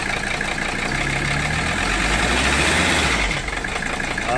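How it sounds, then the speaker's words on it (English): A Mercedes 300SD diesel engine with low compression and new injectors idles loudly nearby, then is revved with the throttle, its clattering note rising and holding before dropping back, with no talking. "I'll give it some throttle and see."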